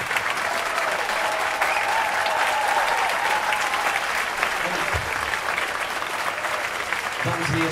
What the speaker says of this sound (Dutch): Nogmaals een groot applaus voor onze DJ